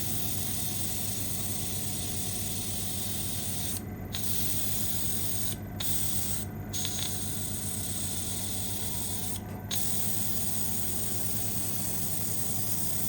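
Steady hissing spray from an airbrush or can onto a model larch tree, continuous and close, broken by a few brief pauses.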